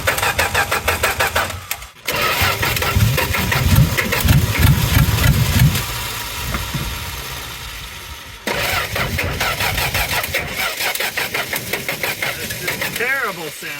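A 1963 Plymouth Valiant slant six runs rough with its timing backed way off, a loud uneven idle with knocking pulses, briefly cutting out near two seconds and again around eight before picking back up.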